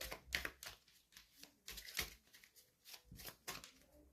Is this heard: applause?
no